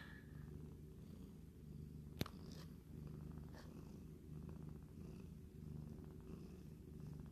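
A foster kitten purrs close and soft in a continuous rhythmic rumble, broken once by a brief sharp click partway through.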